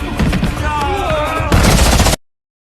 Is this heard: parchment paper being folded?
no